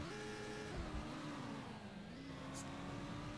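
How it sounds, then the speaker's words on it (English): Car engine in the racing game Need for Speed III: Hot Pursuit, a steady droning rev that rises and dips in pitch, loud and continuous throughout with no talking. "you can actually hear your own car now"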